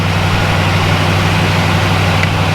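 Car engine running slightly rich and idling steadily, a loud continuous low rumble with no clearly separate backfire pops.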